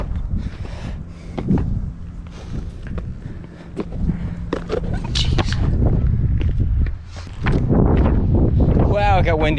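Wind gusts across an exposed cliffside hiking trail on the Beehive climb in Acadia National Park, buffeting the microphone in rough bursts while people talk and move over rock.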